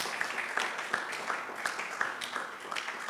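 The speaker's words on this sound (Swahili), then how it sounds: "tungempigia Yesu makofi mengi mengi" A church congregation applauds during a Swahili worship service, a dense, even patter of many hands clapping that holds steady and sounds fairly faint and distant throughout.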